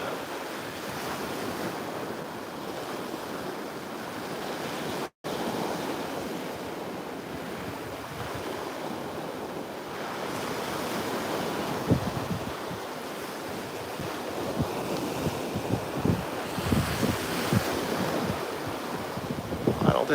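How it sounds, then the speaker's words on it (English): A steady ocean breeze blows on a Sanibel beach at sunset, with continuous wind rush and microphone buffeting laid over surf washing in. Gusts thump harder toward the end. "So we got a good ocean breeze"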